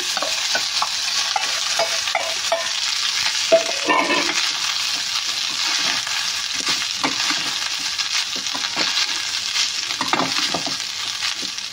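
Cooked rice for sesame rice (nuvvula annam) is stirred in a hot pan, a steady sizzle of frying with repeated scraping and stirring strokes, close and clear, with no talk.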